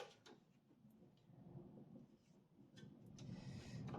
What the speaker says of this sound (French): voilà l'orage qui revient chez moi. Je ne sais pas si vous entendez, ça recommence à gronder